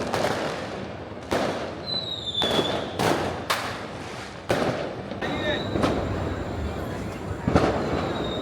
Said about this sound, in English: Quiet and peaceful interspersed with fireworks.